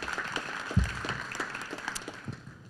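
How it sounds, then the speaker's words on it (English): Audience applause for a presenter at a Bitcoin conference pitch event, a steady patter of clapping from a fairly distant crowd with a low thump near the start, moderately faint throughout. "Give her a round of applause."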